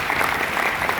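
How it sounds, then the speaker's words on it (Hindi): Audience applause at a health product presentation, a brief dense burst of many hands clapping. "इसके लिए तो जोरदार ताली बजा दीजिए"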